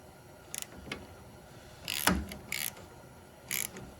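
A tap cuts new threads into a stripped spark plug hole in an engine. Short bursts of metallic grinding and ratcheting come in uneven strokes, close up and alone, with quiet pauses between them.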